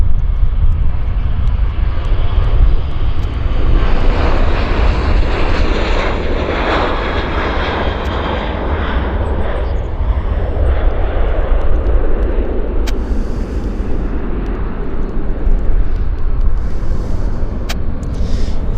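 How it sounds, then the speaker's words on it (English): WestJet airliners taxiing out at Vancouver International Airport on a busy morning, a loud continuous engine rumble and whine that stays close and steady throughout, with no speech. "Lots of WestJets this morning, taxing out."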